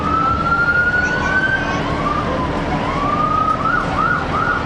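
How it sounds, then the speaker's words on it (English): Wahoo Fire Department fire truck passing in a county fair parade, its wailing siren rising and falling loudly and continuously over street noise. "the Wahoo Fire Department is coming through"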